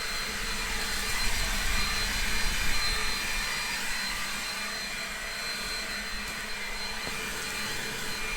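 Battery-powered EGO leaf blower running on its lowest setting to clear leaves off a back-garden lawn, a steady airy whooshing whine with a faint high tone, fairly close and continuous.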